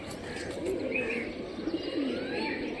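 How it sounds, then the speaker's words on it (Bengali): A green Giribaj pigeon, an old Rajshahi tumbler breed, gives a few soft, quiet coos and chirps close by over faint background noise. "এটা সবুজ কবুতর।"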